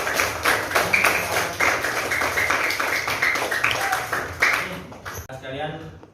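A group claps its hands during a teaching session, a rapid, fairly loud patter that runs under speaking voices and fades out near the end.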